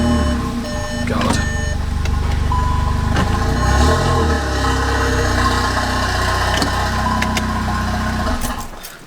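A Volkswagen Golf R on air ride suspension runs its engine nearby as it is moved forward, a steady idle hum with small clunks before it cuts off near the end.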